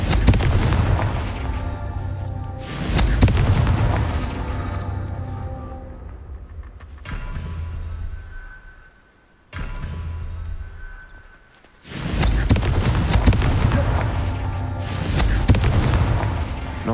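Confringo fire-spell explosions boom repeatedly during combat in the Hogwarts Legacy video game. Loud, deep blasts come in long, rumbling waves, with brief quieter gaps between the bursts.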